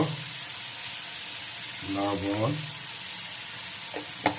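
Chopped onions with a pinch of salt frying in a pan for a Bengali home dish, a steady close sizzle with brief stirring scrapes partway through.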